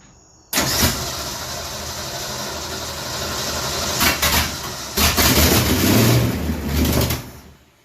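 An abandoned 1960s Ford Mustang engine turns over and runs roughly in a loud, close, continuous drone, surging in bursts near the end.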